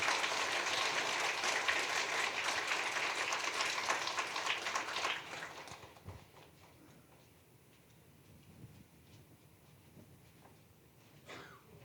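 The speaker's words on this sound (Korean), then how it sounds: "우리 다시 한번 큰 박수로." Congregation applauding during a Sunday church service, a dense, sustained burst of clapping that fills the room for about five seconds before fading to quiet room noise with a few scattered claps.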